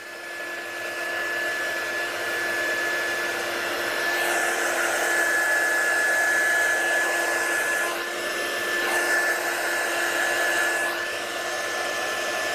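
A hair dryer blows steadily to dry a watercolour card, a loud, close, continuous whine lasting over ten seconds with slight shifts in pitch as it moves, with no talking.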